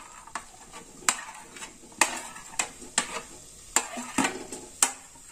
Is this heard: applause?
no